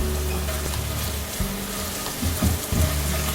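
Red curry paste sizzling in hot oil with ginger, garlic and jalapeno, a steady close frying hiss with a few stirring scrapes and no talk.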